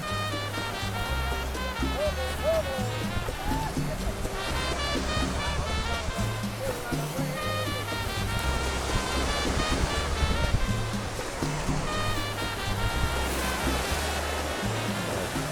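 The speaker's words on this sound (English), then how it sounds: "Este es el Mar del Este, no puedes rentar sillas y kayaks y quedarte acá en la playa todo el día" Ocean waves washing onto a beach in Havana, Cuba, a continuous loud roar of surf that stays steady and close throughout, with no voices.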